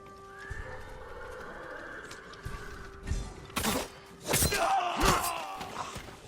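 A horse whinnies near the stables in Ghost of Tsushima, a drawn-out neigh followed by snorts, hoof clops and shuffling, close and fairly clear.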